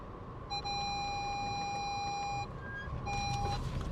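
Car reversing sensor beeping on a steep countryside road near Paphos, a long continuous electronic tone, a short pause, then a second shorter tone over low engine rumble.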